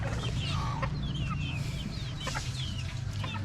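Gamecock chickens cluck and chirp repeatedly over a steady low hum on a farm, several birds close by with short overlapping calls throughout.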